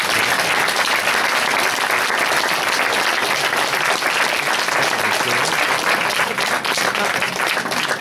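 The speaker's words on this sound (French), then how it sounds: "On applaudit très fort notre Bretagne" Loud, sustained applause from a pageant audience greets Miss Bretagne at the Miss 15/17 France 2014 results, a dense unbroken wash of clapping with no voices over it.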